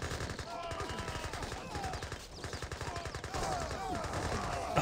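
Fully automatic Gatling guns from the strategy video game Age of Empires 3 fire in rapid, continuous bursts, rattling steadily throughout with other battle effects layered on top.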